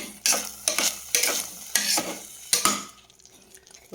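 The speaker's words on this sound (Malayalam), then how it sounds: "ഒന്ന് ഇളക്കി യോജിപ്പിക്കുക." Thick kaima rice payasam is stirred in a pot in about five distinct scraping strokes, each a bright swish of spoon against metal, close and clear before the sound tails off quietly.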